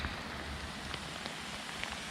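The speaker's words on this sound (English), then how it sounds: "this rain is just dumping right now" Heavy rain pours down steadily outdoors under a pine tree, a dense continuous hiss with scattered louder drops hitting nearby surfaces.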